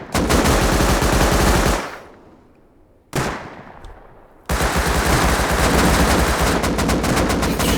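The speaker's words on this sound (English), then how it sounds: "Shooting off flamethrowers and all kinds of celebrations going on here at the end." Flamethrowers fire in the video game Rust during an end-of-match celebration: loud, dense roaring bursts that cut off into a fading tail, briefly restart, then resume and hold steady.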